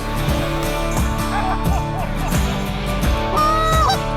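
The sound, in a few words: Canada goose honking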